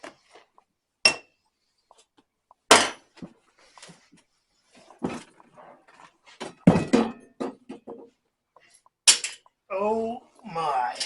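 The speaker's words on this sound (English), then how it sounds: "Get that last bolt out." Removing the last bolt from beneath an MG passenger seat, sparse sharp metallic clicks, clinks and thunks close by with quiet gaps between, ending in a short burst of muffled talk.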